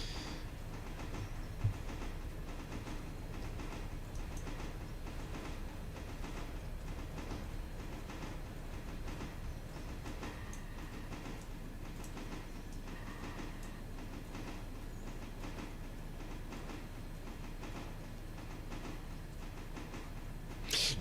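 A diesel locomotive runs in the train simulation game Railroader, giving a steady, faint rolling drone with a soft rhythmic clatter that continues evenly throughout, with no talking.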